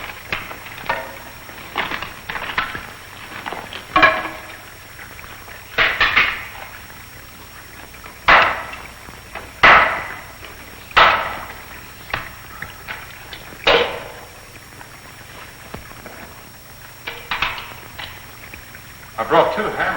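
Hammers striking a wall thought to hide water: scattered, uneven knocks and clanks of varying strength, spaced a second or two apart over a low background.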